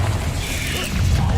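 A Confringo fire spell from the Hogwarts Legacy video game bursts in a short, loud, crackling blast over a low rumble.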